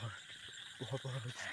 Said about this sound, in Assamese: ওপৰত ভেকুলীয়ে পূৰা মাতি আছে